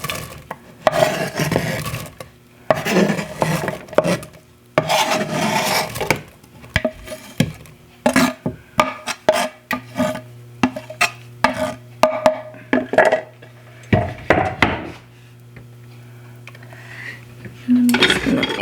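Napa cabbage being tossed with plenty of olive oil in a bowl, with irregular clatters and scrapes of utensils against the dish close up, plus a low steady background hum.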